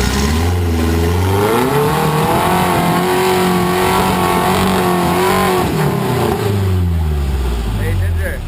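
A vehicle driven at full throttle on a track, engine note climbing and shifting through revs in loud repeated surges, close by, with people talking and calling out over it.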